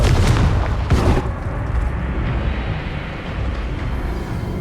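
A Confringo spell explosion in a video game: a loud, heavy boom in the first second or so, then a long rumbling tail that slowly fades.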